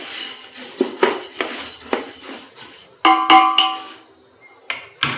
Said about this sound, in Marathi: तर असे आपले खडे मसाले वगैरे मी भाजून घेते.